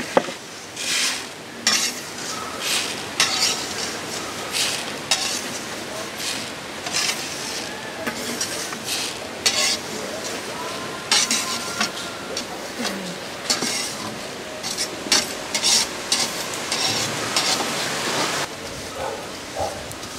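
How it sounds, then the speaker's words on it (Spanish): Sesame seeds toast in a pan and are stirred with a utensil, giving repeated close scraping and rattling strokes with light sizzling in between, continuous for about twenty seconds. "Después de unos 10 minutos de estarlo moviendo, ya quedó bien doradito."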